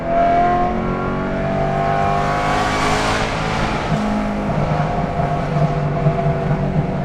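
A stock BMW S65 V8 fitted with a Valvetronic Designs V2 valved sport exhaust, valves open with front free-flow sections, revs up and down close by, its harmonic-rich exhaust note rising and falling in smooth sweeps with no talking.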